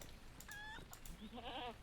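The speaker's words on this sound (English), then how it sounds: "gotta calm the nervous goat" Goat bleating in the online game The Lord of the Rings Online (LOTRO), a nervous farm goat: two short wavering bleats, the second longer and more quavering, moderately close over a steady game background.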